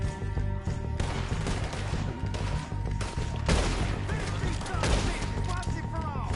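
Shotgun blasts in Red Dead Redemption 2 during a gunfight: repeated loud, punchy booms at uneven intervals over a busy, noisy mix of combat sounds.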